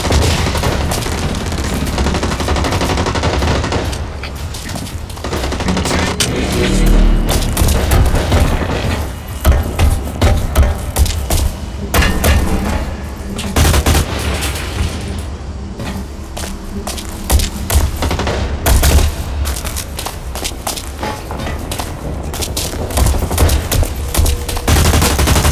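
Loud, continuous gunfire from the online shooter Blacklight Retribution, with rapid automatic bursts and heavy shots overlapping for the whole stretch, plus occasional booms and footstep shuffles.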